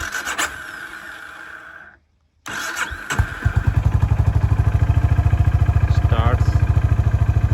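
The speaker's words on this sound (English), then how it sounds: "I will now start it up." A Honda CB350 RS motorcycle engine cranks and catches after a brief silence, then settles into a loud, steady thumping idle close by.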